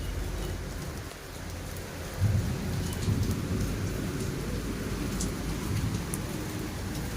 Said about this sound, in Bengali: কেমন বৃষ্টি হচ্ছে দেখুন।